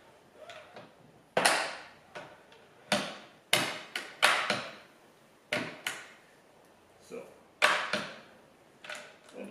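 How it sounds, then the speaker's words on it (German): Bevel lock on a Bosch GKT 18V-52 GC cordless plunge saw being loosened, a series of sharp plastic and metal clicks and knocks at irregular intervals, close and fairly quiet. "Ich habe zwei Stellschrauben, löse einmal die Arretierung"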